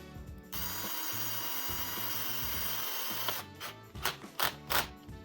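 Cordless drill on a low torque setting drives screws into parts of a giant mammoth puppet during assembly, whirring steadily for about three seconds, then a few short bursts as screws seat.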